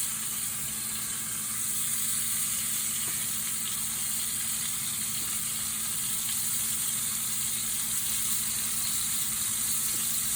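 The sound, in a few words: liver frying in a pan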